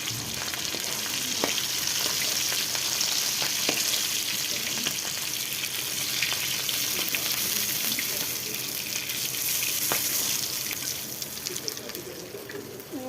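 Tuna fish frying in hot oil in a pan, a dense steady sizzle lasting throughout with occasional faint clinks, easing off slightly at the end.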